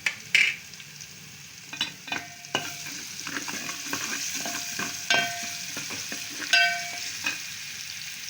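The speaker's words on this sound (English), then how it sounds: "So we are adding our garlic to the mixture" Garlic sizzles in a pan of sweet potato soup base with turmeric while a utensil stirs it, making a steady close frying hiss broken by repeated scraping strokes.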